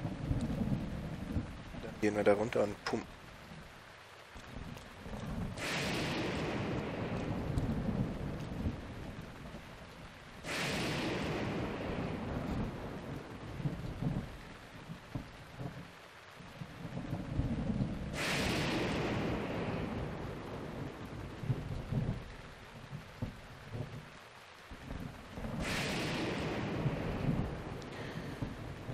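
Rolling thunder and steady rain from a thunderstorm in the video game Zelda Breath of the Wild, with several loud thunder cracks at regular intervals over continuous rainfall while someone talks over it.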